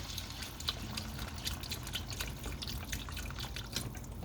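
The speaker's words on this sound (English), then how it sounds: "we're going to go ahead and put in some chicken broth" Chicken broth pours into a pan on the stove, a steady liquid splash and trickle with small drips, fairly quiet and close over a low background rumble.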